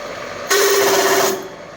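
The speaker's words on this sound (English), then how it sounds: "Down a notch on the speed and take this hole saw through" A hole saw bites into a handmade oil cooler mount for a custom chopper, a loud, harsh whining burst of cutting that starts abruptly and stops after under a second over a steady workshop hiss.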